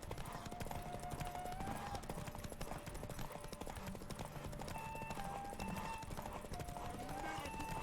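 Horse hooves clip-clop in a steady fast galloping rhythm during a video game horse race, the mount Roach running under continuous game music and someone talking over it.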